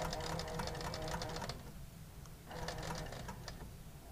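Quilting sewing machine stitching across a quilt top loaded on a small frame, rapid steady mechanical chatter that pauses for about a second midway before resuming, fairly quiet with no talk.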